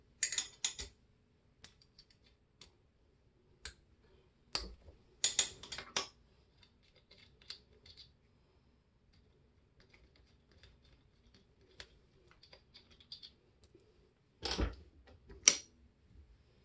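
A 5/32 Allen wrench works screws loose on a Dillon XL650 reloading press, giving sparse, sharp metallic clicks and scrapes in short bursts separated by quiet gaps.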